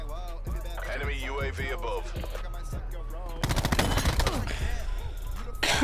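The DAEMON 3XB MKII gun fires in a video game, first as separate sharp shots and then as a dense rapid burst, loud and close, with whooshing game effects and electronic tones around it.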